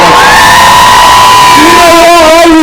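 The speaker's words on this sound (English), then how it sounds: "Can we first have a big round of applause to the Fire Brigade Union as well?" A rally crowd cheering and whooping at a Manchester Piccadilly solidarity gathering, a loud sustained roar of many voices with rising shouts, close and distorted, without clear separate claps.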